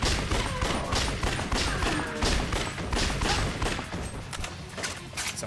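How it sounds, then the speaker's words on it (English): Pistols fired rapidly at zombies in the Yakuza: Dead Souls video game, a loud, fast, continuous volley of close gunshots with impacts and crashes, and no talking. "For a lot of zombies at the start, we'll be using our pistols, because pistols are obviously very fast firing."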